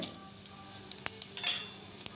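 Faint sizzling of seeds crackling in hot oil, with scattered sharp pops and a soft metallic clink over a quiet frying hiss.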